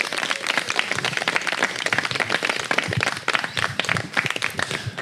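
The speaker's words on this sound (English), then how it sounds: "Give him a round of applause." An audience applauds a speaker being welcomed on stage at a live show at Tanglewood Estate, dense continuous clapping close and loud throughout, with a few faint voices mixed in.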